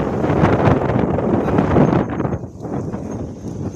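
A strong storm wind roars and rushes close by, loud and continuous, easing slightly toward the end.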